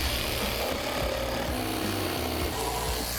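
A battery-powered Festool saw cuts through wood, producing a steady, fairly quiet rasping buzz with rough sawing texture up close, continuing without pause and with no talking.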